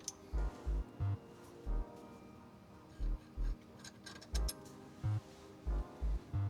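A socket ratchet clicks in short, evenly spaced bursts up close as a bolt is broken loose while a short shifter is installed in an Infiniti G35; quiet and without talk.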